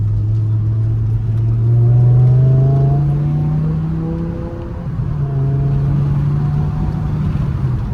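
A BMW E60 M5 with a V10 drives through a residential area, engine droning loud and close as it accelerates with rising pitch, then briefly eases off before pulling again, alone without talk.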